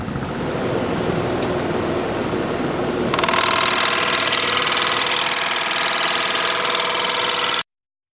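Wood lathe turning a rectangular winged bowl at 1200 rpm without the tailstock, a steady droning hum joined midway by a louder, brighter whirring rush, continuous and close until it cuts off abruptly.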